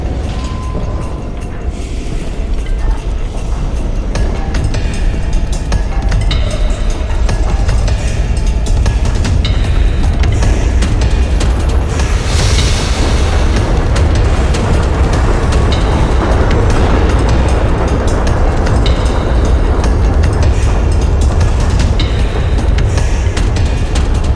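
A train thunders past in the video game The Missing: J.J. Macfield and the Island of Memories, a loud, sustained rumbling roar with rattling clatter throughout, steady and close for over twenty seconds with no talk.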